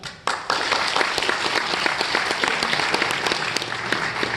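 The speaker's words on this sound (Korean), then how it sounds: "다시 한번 좋은 말씀 주신 이각범 교수님께 큰 박수 부탁드리도록 하겠습니다" An audience at a memorial lecture marking a president's death anniversary bursts into applause, with dense, sustained clapping from many hands that starts abruptly and carries on steadily, loud and fairly close.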